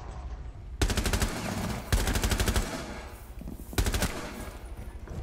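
Rapid automatic gunfire in a first-person shooter comes in three loud, close bursts of rattling shots separated by brief pauses, with softer game noise in between.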